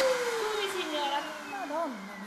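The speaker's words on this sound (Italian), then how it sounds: "Chiara, basta con sto aspirapolvere." A household vacuum cleaner runs with a loud, steady whine that drifts downward in pitch as the motor slows, heard close up.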